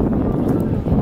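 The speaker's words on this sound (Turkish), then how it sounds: "Rüzgarlı bir hava var." Strong wind buffets the microphone on Hükümet Caddesi in Bartın, Turkey, in a constant low roar, brief and loud.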